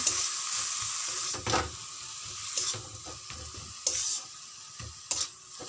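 Soybean spice filling being stirred in a pan with a little added water, a steady wet sizzle and scraping broken by several louder bursts of stirring, close and continuous with no talking.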